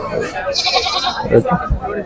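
Goats, including bucks, bleat at the Pebbair goat market, with a few short bleats mixed in among close voices of people talking.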